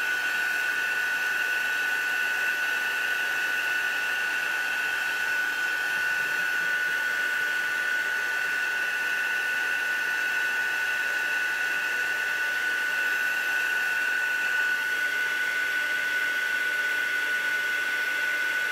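A heat tool blows steadily, melting and heat-setting a mixed media art piece, a loud constant whirring rush with a thin high whine that holds unbroken from start to finish.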